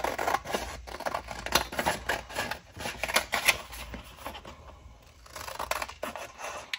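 Scissors snip and scrape through old planner dividers being cut into journal tags, a rapid series of close, crisp cuts and rustling paper with no talk.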